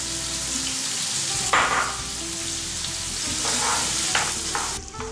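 Peppers frying in a large sauté pan, a steady hiss of sizzling oil with bursts of stirring and scraping across the pan, close and continuous.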